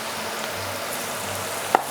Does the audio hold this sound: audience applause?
no